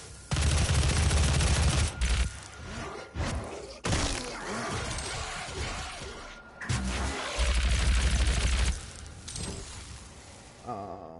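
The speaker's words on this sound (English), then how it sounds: "I got 5 bullets in the super shotgun" In the video game Doom (2016), the super shotgun fires heavy, booming blasts close and loud, mixed with repeated explosive bursts and clatter over several seconds of intense combat.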